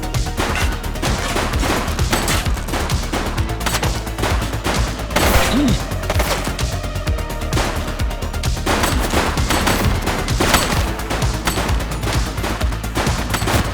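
Dense, continuous gunfire in The Precinct video game during a gang showdown, with overlapping automatic bursts and single shots crackling loudly and almost without pause for the whole stretch.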